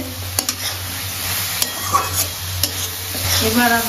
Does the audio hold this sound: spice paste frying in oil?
yes